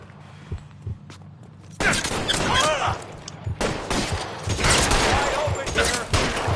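Rapid bursts of gunfire in the video game L.A. Noire erupt after a quieter opening, dense automatic shots clattering close and loud, with shouted speech mixed in.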